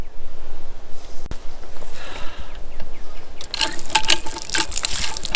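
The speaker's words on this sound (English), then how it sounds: "I got running water." Water runs from an old wellhead outdoors, starting as faint background hiss and then bursting into a louder, bright splashing gush for the last couple of seconds, close to the listener.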